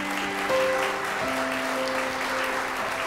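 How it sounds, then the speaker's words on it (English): Audience applause for a house pianist at a CBC K-W Sounds of the Season holiday event, a steady wash of clapping while sustained piano notes ring underneath. "Get a round of applause for Amber McLean."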